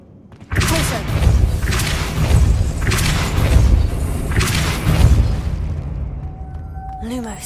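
Repeated booming spell blasts from the Repulso charm in Hogwarts Legacy, four or five loud thumping bursts with whooshing tails at a steady pace, fading into a short ringing tone at the end.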